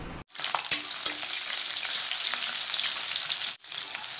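Green and red capsicum cubes fry on a high flame, a loud, dense sizzle that starts abruptly, holds steady with a few stirring knocks, then briefly cuts out.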